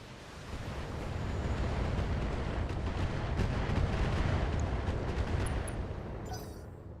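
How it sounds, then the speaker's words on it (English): Inferno mortar fire in a BTA mod of a mech combat video game makes a sustained, rumbling roar. It swells and holds at a moderate level for several seconds, then fades. No voices are heard. "This guy's hot, so we're gonna drop mortars on him. Inferno mortars."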